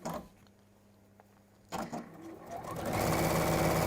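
A sewing machine runs in short bursts as it stitches backwards and forwards, a brief whir early, a pause, then a rising mechanical chatter that settles into a loud, steady run.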